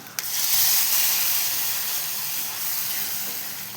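A loud, steady sizzling hiss right after liquid hits a hot pan while making Kerala-style ginger-tamarind curry (inji puli), fading slightly but continuing without pause.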